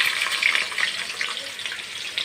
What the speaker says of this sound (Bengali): এবার আমি কেটে রাখা বেগুনগুলো দিয়ে দেব তেলের মধ্যে